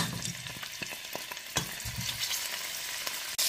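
Beef and precooked cowhide fry in hot red palm oil, a steady dense sizzle with crackles and stirring scrapes throughout, close and continuous.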